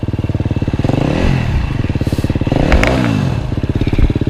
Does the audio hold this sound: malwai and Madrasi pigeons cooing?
no